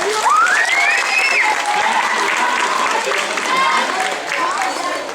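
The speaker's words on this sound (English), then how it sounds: "Round of applause." Circus audience applauding steadily and loudly throughout, dense clapping with crowd noise and a few voices over it.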